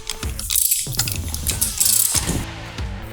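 A tool tightens the frame slider bolt on a Kawasaki Ninja 650, drawing the puck firmly into its adapter, heard as a run of close, busy mechanical ratcheting and clicking with no talk over it.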